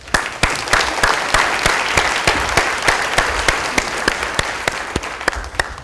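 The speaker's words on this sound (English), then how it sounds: "I think we all should give you and your team a round of applause." Audience applause at a United Nations event, a dense steady round of clapping with sharp individual claps standing out, loud and close, sustained throughout without talk.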